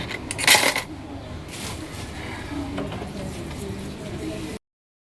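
A big pile of dishes gets washed by hand, opening with a loud clink and clatter of metal pots and utensils, followed by a steady wash of running water and scrubbing with a voice in the background.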